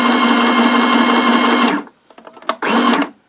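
A sewing machine runs a long steady burst stitching a straight seam with a small zigzag into a fabric baby-book page, stops briefly with a few small clicks, then whirs again for another short run, close and loud.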